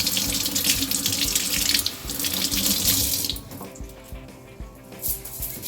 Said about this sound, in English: Make sure you wash the onions very well.